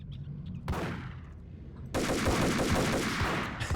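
Gunfire in the Max Payne video game: a single sharp shot, then a sustained burst of rapid automatic fire, loud and close, with no talking.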